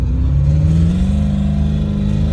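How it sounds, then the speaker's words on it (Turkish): A car engine pulls up in pitch as it accelerates, a loud, steady in-cabin drone with a rising tone and light rattling. "Hani gaza basıyorsun, araba biraz ivmeleniyor, ses öyle geliyor."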